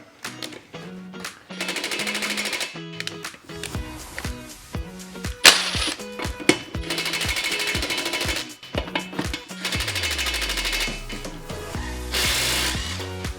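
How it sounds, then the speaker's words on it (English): A Ridgid impact driver removes lug nuts from a car wheel in repeated loud, rapid hammering bursts of a few seconds each. Short pauses separate the bursts, and a winding-down whir follows near the end. "we're gonna see if this Ridgid impact driver can take the lug nuts off"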